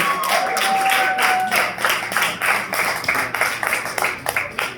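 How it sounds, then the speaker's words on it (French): Guests at a family celebration applaud a couple: a small group claps in rhythmic bursts, loud and close, with a short tone at the start and the clapping growing more uneven near the end. "Nous applaudissons pour eux, nous applaudissons s'il vous plaît."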